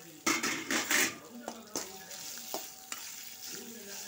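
Green chilies, ginger and grated coconut frying in a pan for mint chutney, with a few loud bursts of stirring and scraping at the start, then softer sizzling and sharp utensil taps against the pan.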